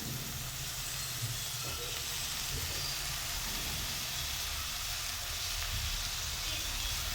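Foraged wild greens go into a pan of frying crushed peanuts, a soft continuous sizzle and hiss with faint stirring underneath, fairly quiet and without speech.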